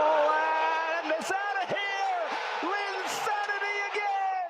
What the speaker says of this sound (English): you see how loud that crowd is?